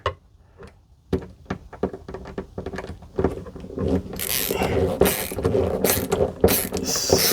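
A screw driven into drywall while mounting a smoke detector: scattered clicks of a ratcheting screwdriver give way to a denser, louder run of rasping turns and sharp clicks, close up.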